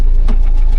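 A cheap used jeep's engine running at idle, a loud, steady low rumble with a slight rhythmic pulse, close by and heard alone for under a second.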